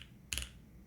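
A single short clack from a mechanical keyboard key, a crisp bright click that sounds alone in a quiet room.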